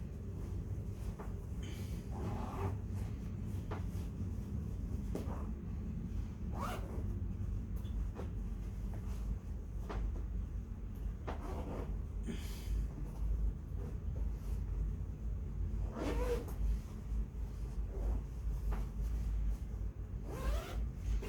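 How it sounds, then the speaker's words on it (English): Someone zips a mattress cover in a quiet room, making a long series of short, close rasping zipper pulls with brief pauses between them. "you are going to zip it. Just make sure that it does not get stuck in the cover"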